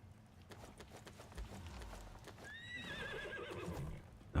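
Horse in the ICARUS video game, soft hoof clip-clops followed by a clear whinny with a wavering, falling pitch, fairly quiet and close, no speech.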